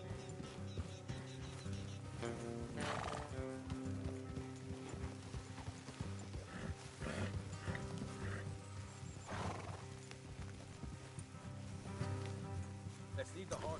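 Horses in Red Dead Redemption 2 whinny several times over a constant clip-clop of hooves and rattling movement, with a continuous backdrop of music and ambient noise.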